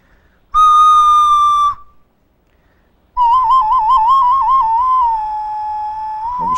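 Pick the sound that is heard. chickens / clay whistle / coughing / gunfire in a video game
clay whistle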